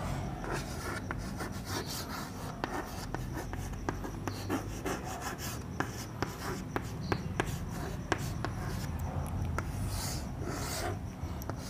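Marker or chalk writing on a board during a Hindi chemistry lesson, a steady soft rubbing scrape with small taps, close and fairly quiet, with no talk over it.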